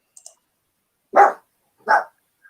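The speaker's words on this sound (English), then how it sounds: "Whose dog is that? That's mine. I don't know why he's barking." A pet dog named Cardi gives two sharp, loud barks about a second apart, close by in a quiet indoor room, with a few faint clicks before them.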